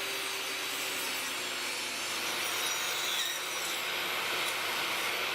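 A table saw trims small wooden watch parts cut from a template, giving a steady, fairly quiet high-pitched whir and rasp that runs evenly throughout with no talking.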